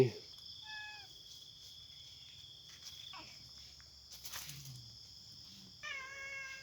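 Cats meowing at Wat Pong Chai Buddhist temple in Chae Hom, Lampang: a few short, clear meows spread across a quiet, steady background of insect-like buzzing, with one louder meow near the end.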